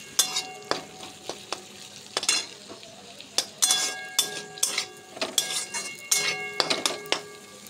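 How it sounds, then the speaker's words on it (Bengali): Chopped carrot, beans, capsicum and onion being stir-fried in a pan for street-style egg chowmein, with a steady sizzle and repeated sharp clinks and scrapes of a utensil against the pan, close and unaccompanied by talk. "হালকা হাতে একটু ভেজে নেব।"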